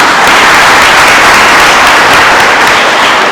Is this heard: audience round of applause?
yes